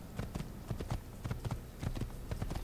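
A horse ridden in the Assassin's Creed video game clip-clops with steady, rhythmic hoofbeats at a moderate pace, fairly quiet and unaccompanied by talk.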